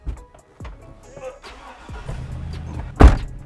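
People climb into a Hummer SUV, with close thumps and rustling, a few door and seat knocks, and a loud slam near the end, under bits of voice.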